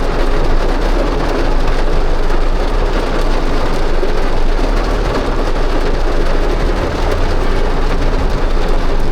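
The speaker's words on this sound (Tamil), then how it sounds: "சரியான மழை அடிக்குது," Heavy rain pours down continuously, likely heard from inside a taxi in Chennai, a loud, dense, unbroken roar of drops drumming on surfaces with no pauses.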